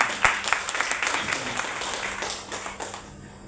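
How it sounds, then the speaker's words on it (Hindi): A crowd applauds, many hands clapping in a dense burst that gradually thins and fades out. "तो इन दो महान पर्सनालिटी के लिए शानदार तालियां होनी चाहिए।"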